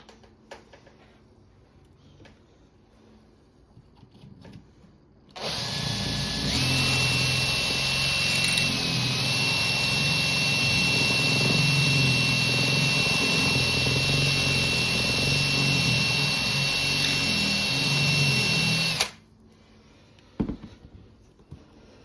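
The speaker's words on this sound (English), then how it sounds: "Now we've drilled that out, we'll sweep some of this mess off" A power drill bores out a Pro-Line big bore shock suspension part, its loud, steady high-pitched whine running continuously for about fourteen seconds before cutting off abruptly, with faint workshop noise around it.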